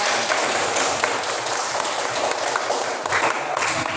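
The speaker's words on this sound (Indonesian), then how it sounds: "Oke, kita tepuk tangan dulu" Indoor classroom audience applauding during a student presentation, steady dense clapping filling the room throughout.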